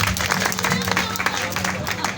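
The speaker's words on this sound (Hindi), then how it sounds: "तालियां, अब जोर से तालियां" Applause from a crowd at a wedding ceremony, steady clapping blended with a busy background and voices talking throughout.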